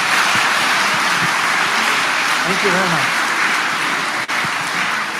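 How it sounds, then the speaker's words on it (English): Audience applause for colleagues at an entrepreneurship event, a steady broadband clatter of clapping filling the room, with a speaker briefly talking over it. "applause to your colleagues"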